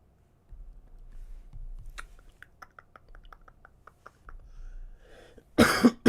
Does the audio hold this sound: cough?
yes